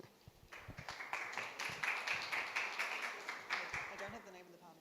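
A conference audience gives a panel steady applause, a dense rapid patter of clapping that swells and holds for several seconds.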